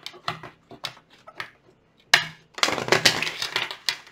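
Tarot cards are shuffled in a few quick riffling bursts, with soft taps between them and a longer, denser shuffle toward the end.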